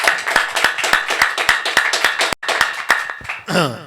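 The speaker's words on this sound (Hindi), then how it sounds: "फिर से परमेश्वर को धन्यवाद देंगे तालियों के साथ।" Worship congregation clapping in a steady, rhythmic beat of sharp hand claps, loud and close, with a brief gap near the end before a rising swell of voices.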